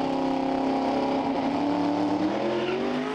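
Pro Mod drag car on a half-track qualifying pass, the new Direct Plastics Back Duster at a British Drag Racing Championship round, holds a loud, steady engine roar throughout with a rising whine near the end, heard from a distance.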